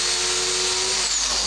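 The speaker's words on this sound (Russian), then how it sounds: "Берем сверло, наставляем, оно очень-очень быстро." Power drill boring a hole in a tin can, a loud, steady high-pitched whine running continuously with no talk over it.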